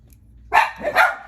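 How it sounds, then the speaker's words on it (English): Dogs burst into loud, close barking, several sharp barks in quick succession over a quiet room, as someone arrives home. "It sounds like someone's getting home right now and the dogs are going nuts."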